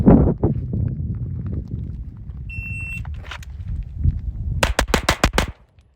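RSU Arms Odin ported and compensated gun firing outdoors: a few single loud reports and then a fast burst of about six sharp shots in tight succession near the end.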